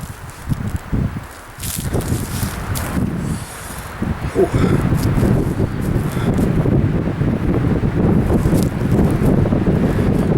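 Strong wind buffets the microphone at an outdoor campsite, a steady low roar with gusts that build and stay loud throughout, with faint rustling underneath.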